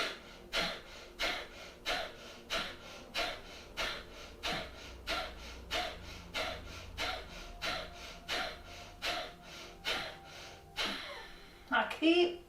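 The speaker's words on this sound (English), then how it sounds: "that idea of blowing through your nose as if you're trying to get something out of it into your hand" Forceful breaths pushed out through the nose in a yoga and relaxation exercise, about twenty sharp exhalations in a steady, quick rhythm, close and clear, ending in a longer rushing breath.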